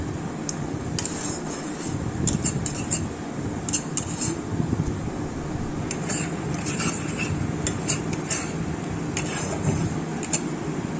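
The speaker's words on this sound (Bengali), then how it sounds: "এবার লবণটা দিয়েও নাড়াচাড়া করে নিচ্ছি" A spoon stirs capsicum chutney in a pan after salt goes in, giving steady close scraping and clinking over a constant fan-like hum, with occasional sharper metallic taps.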